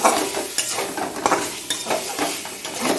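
Boiled and fried eggs are stirred into a cooked spice masala in a pan, with repeated scraping strokes of a spatula over a soft, steady sizzle, close and fairly loud.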